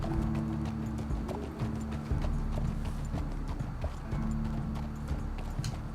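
A horse gallops in the Red Dead Redemption 2 video game, its hooves pounding a fast, steady clip-clop rhythm over a constant low rumble, with no talk.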